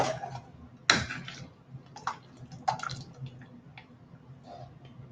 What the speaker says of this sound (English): Hot water spilling on the floor.